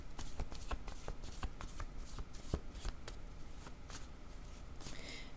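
A deck of tarot cards is shuffled close by, a run of quick papery riffles and taps in uneven bursts, fairly quiet with no talking.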